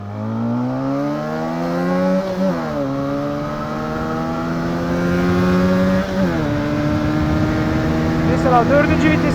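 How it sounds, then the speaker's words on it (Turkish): An RKS SRK250RR motorcycle with changed sprockets has its throttle opened, the engine climbing in pitch through repeated rising revs, close and loud. "Şimdi hemen şurada bir açayım gazı."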